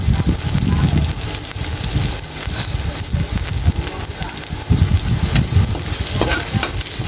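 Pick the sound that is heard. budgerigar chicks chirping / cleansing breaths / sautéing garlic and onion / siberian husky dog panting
sautéing garlic and onion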